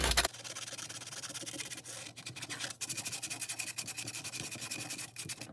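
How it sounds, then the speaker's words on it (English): Steady abrasive rubbing and scraping as a boat propeller is sanded by hand, close up, continuing for several seconds with slight rhythmic strokes and brief pauses. "as I sand this, I'm doing my best not to interfere or mess up this paint"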